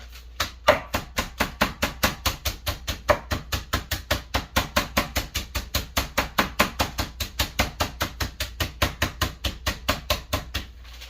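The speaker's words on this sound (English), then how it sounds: "I can cut those in half because those are really big." A knife chops steadily through food on a cutting board, a fast even rhythm of about four crisp thuds per second that continues without pause, close and clear.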